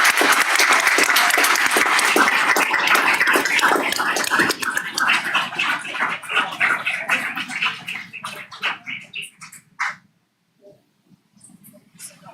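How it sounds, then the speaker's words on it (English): An audience at a school board meeting applauds students: dense, loud clapping fills the room and then thins into scattered claps before stopping, with brief talk at the end. "One more round of applause"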